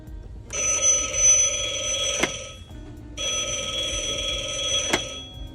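A toy telephone in a store with Halloween merchandise rings loudly in two long electronic bursts separated by a brief pause.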